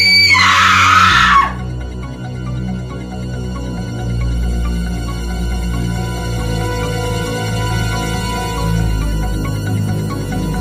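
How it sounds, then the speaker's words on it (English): A woman screams shrilly in a Halloween horror audiobook scene, one loud burst at the start that cuts off after about a second, followed by a long sustained low ominous music bed. "It was gluey and red, and Mrs. Elrod screamed."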